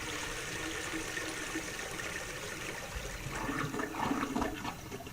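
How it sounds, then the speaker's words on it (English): A toilet flushes in a Roblox game, a steady rushing wash of water that swells slightly toward the end, heard alone. "he can get up and he can flush the toilet, and the flushing works"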